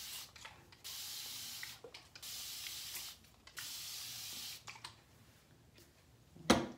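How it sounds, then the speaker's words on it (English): Straight Silk Spray with argan oil, a heat-protecting detangler, misted onto hair from a continuous-spray bottle in several long, steady hissing bursts separated by short pauses, close by, ending on a brief sharper sound. "Spray some of this straight silk spray."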